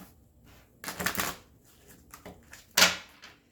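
Tarot cards are shuffled by hand in quick riffling bursts, one longer flurry followed by a sharper, shorter one, close up in a quiet room with no talk.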